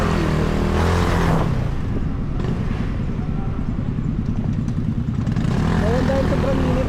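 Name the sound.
motorcycle engine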